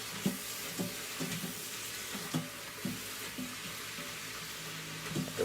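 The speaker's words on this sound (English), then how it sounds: "Okay, so I'm just going to give it a quick stir." Fresh spinach sizzles and sautés in a hot pan on the stove while being stirred, a soft steady hiss broken by repeated light scraping strokes at a fairly quiet level.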